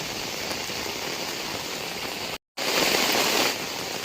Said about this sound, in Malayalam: കനത്ത മഴയാണ് കേട്ടോ